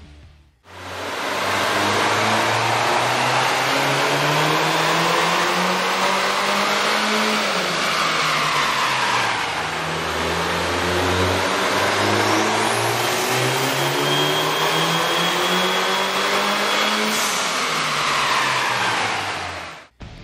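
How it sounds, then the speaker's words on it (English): Mini Cooper S with a 1.6L engine and an aftermarket air intake running on a dyno, its loud engine sweeping up through the revs, dropping back and climbing again, steady and close with no talking. "we ran the vehicle on the dyno to test the sound comparison versus the stock intake"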